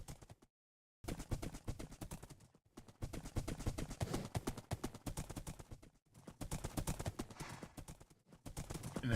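Hooves of a horse walking in Minecraft, a steady run of soft clip-clop steps, close and fairly even, broken by a short silent gap near the start.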